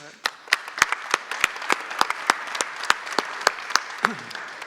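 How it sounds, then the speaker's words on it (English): Applause from a conference audience comes as distinct, separate claps in a fairly even rhythm, sounding like a modest group clapping in a hall, with a brief voice near the end. "Thank you for coming, Louise. Big applause"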